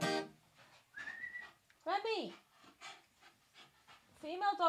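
A female dog pants quickly and lets out high, wavering whines in short bursts close by, while people talk over the sounds.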